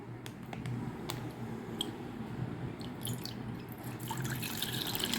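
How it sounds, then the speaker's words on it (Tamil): Leftover milk is poured into a vessel, a soft, fairly quiet liquid trickle with occasional drips and wet splashes that grows slightly stronger toward the end. "பாக்கி பாலெல்லாம் இப்போ நம்ம இதில் ஊற்றிடலாம்"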